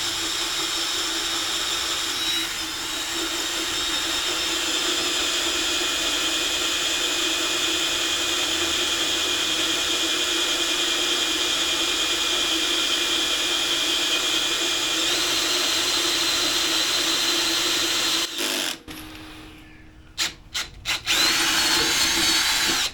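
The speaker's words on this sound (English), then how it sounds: "time to make some holes in or drill these pilot holes out" Power drill boring pilot holes for a plate during a bandsaw repair, a loud, steady high-pitched whine held for nearly twenty seconds, then stopping and restarting in a few short bursts near the end.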